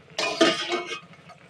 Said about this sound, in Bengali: এবার আমরা ঢাকনাটা তুলে নেব।